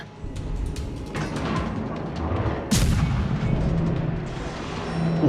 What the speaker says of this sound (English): Now I started shooting at the French battleship